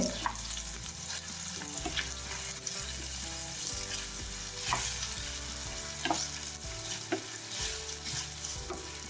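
Grated ginger and garlic chutney sauté in hot oil for a Kathiyawadi dhokli shaak, giving a steady close sizzle with the scrape and clatter of stirring throughout.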